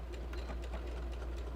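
A sewing machine stitching a fabric scrunchie, giving a steady close mechanical whir with a fast rhythmic needle chatter and a low motor hum underneath.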